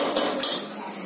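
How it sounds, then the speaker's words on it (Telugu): Chopped tomatoes tipped into a pan of onion curry, a quick clatter of utensil against the pan followed by a soft steady sizzle. "ఇప్పుడు మగ్గిపోయింది కాబట్టి టమాటాలు వేస్తా"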